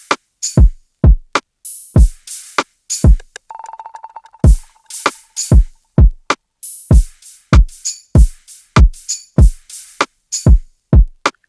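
Programmed drums for a 2000s R&B beat in FL Studio: loud, punchy kicks and crisp snaps and hats in a steady rhythmic groove, with a brief fast roll of tonal hits partway through.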